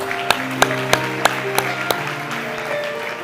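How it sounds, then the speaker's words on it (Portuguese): Churchgoers clap during a service in a steady rhythm of about six sharp, evenly spaced hand claps over sustained keyboard-like tones, with no other crowd noise. "Aplauda Jesus."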